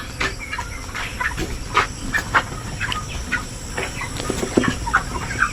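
Chickens cluck in scattered bursts throughout a poultry farm shed in hot weather, with a steady background hum and faint insect chirps and no talking.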